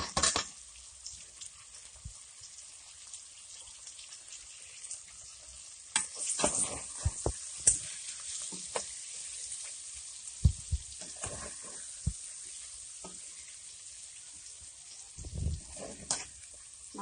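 Onions and peppers sizzle in a pan as they are stirred, with a soft steady hiss broken by bursts of spatter and utensil clatter.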